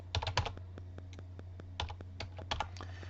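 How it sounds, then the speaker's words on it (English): Keystrokes on a computer keyboard while entering a title in Photoshop, in quick irregular bursts of clicks with short pauses, close and fairly quiet over a steady low hum. "And I'll type in a title."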